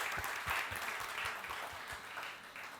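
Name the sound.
congregation applauding first-time visitors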